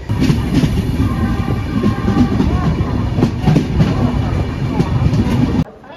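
The Kakinada Town–Lingampalli Special Express (07445) rolls along the line, heard from on board as a loud, continuous rumble with rhythmic wheel clatter that cuts off sharply near the end.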